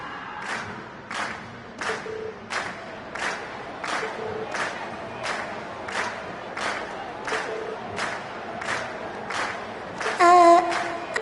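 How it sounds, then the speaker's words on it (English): A crowd at a concert in the video game Trails of Cold Steel cheers and claps in steady rhythmic pulses, roughly one burst per second, loud and sustained, ending with a brief synthesized game tone. "we've heard your cheers loud and clear"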